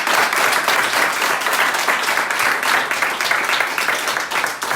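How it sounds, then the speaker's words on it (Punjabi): A crowd at a Christian prayer meeting applauds to welcome a visiting team: steady, dense clapping that holds loud and even throughout. "ਤਾੜੀਆਂ ਦੇ ਨਾਲ ਸਵਾਗਤ ਕਰਦਾ।"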